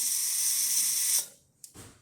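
A Breville espresso machine's steam wand hisses loudly and steadily, then cuts off abruptly, followed by a brief click and a softer mechanical sound.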